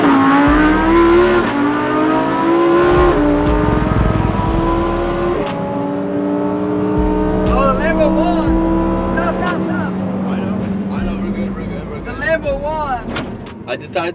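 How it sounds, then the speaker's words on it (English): Lamborghini Huracan STO and Porsche 911 GT2 RS accelerating hard in a rolling race from 30 mph, a loud close engine roar that climbs in pitch through several gear shifts, with people talking over it. "All right, now we're gonna do a rolling race."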